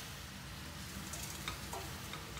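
Chicken with frozen, still-unthawed onions frying in a pan for a tomato curry, giving a steady close sizzle with light stirring scrapes throughout, no voices.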